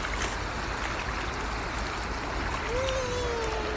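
Clear, cold river water coming down from Baguio rushes in a steady, full wash. The flow is loud and continuous, with a faint tonal whistle near the end.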